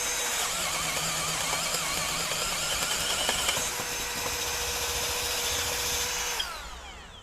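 A Milwaukee M12 FUEL Gen 3 hammer drill, chuck set to drill mode at speed 1, drives a 1-inch bit in one continuous loud whirring run that cuts off near the end.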